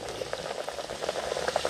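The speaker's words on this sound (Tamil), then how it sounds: "இப்போ அப்படியே எண்ணெயில் போட்டுடலாம்" Banana flower vada sizzles and bubbles in hot frying oil, a continuous crackling fry with small popping bursts, close and fairly loud, with no talking.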